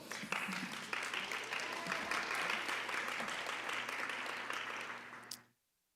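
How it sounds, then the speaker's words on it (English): An audience at a school district spelling bee final gives a sustained round of applause, steady and full for over five seconds before cutting off abruptly into silence. "Give yourselves a round of applause up there,"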